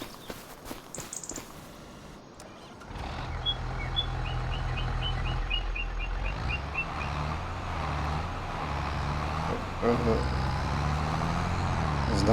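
Farm tractor driving in Farming Simulator 25, a steady low engine drone starting after a quiet moment and running continuously, with faint beeping tones and game effects over it.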